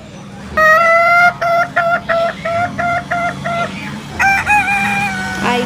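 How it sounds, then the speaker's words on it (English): A hen clucks and a rooster crows, close and loud: a drawn-out crow opens, a run of short rhythmic clucks follows, then a second crow near the end. "H for hen."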